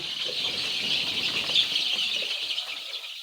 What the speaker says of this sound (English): Wow, these birds are really feeding very fast now.